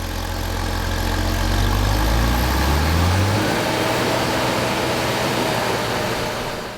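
Classic John Deere tractor engine running on a dynamometer, a loud steady mechanical drone with a low tone that shifts and drops early on, then holds constant with no talking.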